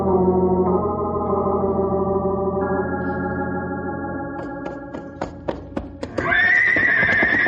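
A horse whinnies in a long, wavering call in a desert radio drama, followed by sharp clopping hoof knocks and another rising neigh at close range.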